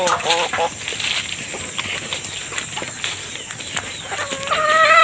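Backyard chickens and young chicks cluck and peep close by in a continuous overlapping chorus, with a person speaking over the birds.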